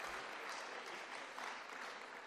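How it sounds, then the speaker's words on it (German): A crowd at a Bavarian Greens state party conference applauds the office staff, a steady, faint hiss of many hands clapping, distant and uniform throughout. "ein berechtigter Applaus für unsere hervorragende Geschäftsstelle"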